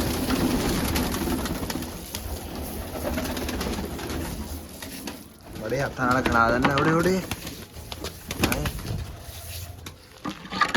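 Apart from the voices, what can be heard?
white pigeons cooing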